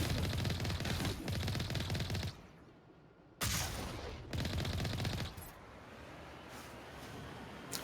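A deployed turret in Mass Effect Legendary Edition fires long rattling bursts of rapid shots, stopping briefly and then resuming, with a quieter crackle of combat continuing after.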